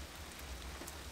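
Light rain pattering softly and steadily in a wilderness national park in Finland, a faint even hiss of drops on surfaces with no voices.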